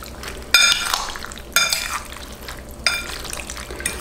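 Roasted sweet pepper salad being mixed in a bowl, three wet, squelching stirring strokes in close succession.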